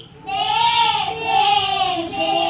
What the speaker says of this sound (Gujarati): બકરી